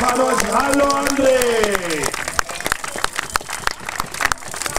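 Spectators at the finish line of a running race clap for arriving runners, scattered sharp handclaps that come in after a voice speaks over a loudspeaker at the start.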